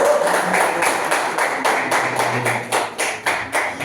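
Audience at a live poetry open mic in Mumbai applauds poet Deepak, a dense, steady clapping that runs throughout and swells in rhythmic waves before thinning slightly near the end.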